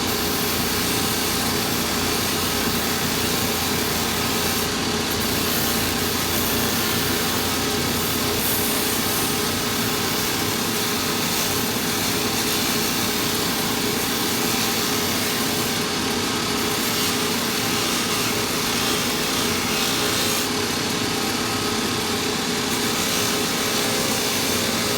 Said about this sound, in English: When you sand it, it crushes it down and gives it a much more smoother